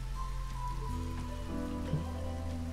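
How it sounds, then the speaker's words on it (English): Steady rain falling in the strategy game Against the Storm, a dense even patter running the whole time beneath low sustained musical tones, with no voices. "There is hailstorm, there is wind, and the rain can be collected also"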